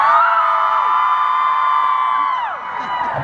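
A hip-hop concert crowd at the House of Blues in Anaheim lets out a loud sustained wave of high-pitched cheering and whooping that holds steady and then trails off near the end.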